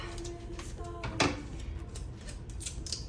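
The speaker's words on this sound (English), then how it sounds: "take your paper and you're gonna cut a long hand" Scissors snipping paper during a children's clock-making craft, a few short crisp cuts up close, fairly quiet over a soft background hiss.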